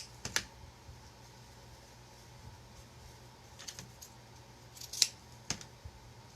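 A few sharp scissor snips spaced apart in a quiet room, crisp and close, with pauses between cuts.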